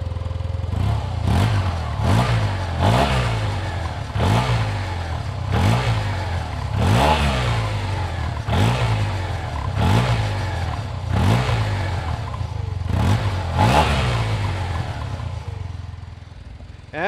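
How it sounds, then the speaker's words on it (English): A 2020 Yamaha TMAX 560 Tech Max scooter idles while its engine is blipped repeatedly, about a dozen quick revs rising and falling in a steady rhythm through the exhaust, close and loud. "now let's hear a little bit of the exhaust,"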